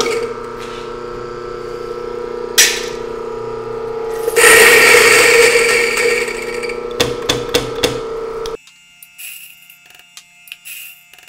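Coffee beans ground medium fine for cupping in an electric grinder, with a steady mechanical buzz that roughens into a loud crunching grind, then a few clicks before the motor cuts off abruptly.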